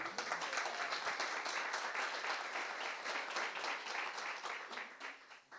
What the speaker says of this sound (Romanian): vreau să ridici mâna și vreau să o aplaudați